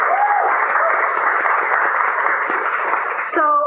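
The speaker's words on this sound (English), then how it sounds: "Let's give him a round of applause." An audience at a civic event in Toronto claps together in steady applause for several seconds, close and fairly loud, with a brief tonal sound at the very end.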